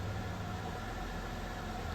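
A 2005 Buick LeSabre engine idling at roughly normal RPM after repair, a low, steady hum with faint broadband hiss, fairly quiet and unbroken, no talking.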